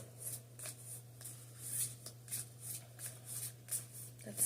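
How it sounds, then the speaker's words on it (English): Moonology oracle cards are shuffled in quick, soft riffling bursts, a regular rhythm of close papery flutters over a low steady hum. "let's draw an oracle card from the Moonology Oracle"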